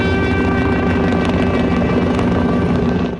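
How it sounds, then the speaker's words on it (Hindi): Three police helicopters fly past overhead in salute at a funeral procession, a loud, steady rotor roar with thumping blades that fills the whole stretch and drowns out everything else. "3 हेलीकॉप्टरों ने फ्लाई पास्ट करके सलामी पेश की।"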